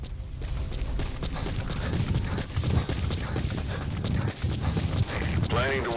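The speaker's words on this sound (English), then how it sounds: "Use your horse." A horse's hooves clip-clop in a steady trotting rhythm in Metal Gear Solid V: The Phantom Pain, set against a dense bed of game effects and low rumbling background sound.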